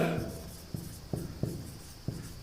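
Chalk or marker writes on a board in a few short scratchy strokes, close and distinct, with brief pauses between them.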